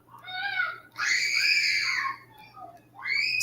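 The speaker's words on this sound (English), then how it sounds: "Stop screaming, kids." Children scream in long, high, wavering bursts, three loud outcries close by with short breaks between them and no other sound competing.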